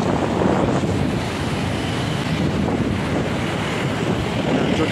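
Floodwater of the swollen Tinau river at Butwal rushes continuously, a loud, steady broadband roar of churning water with wind buffeting the microphone throughout and no pauses.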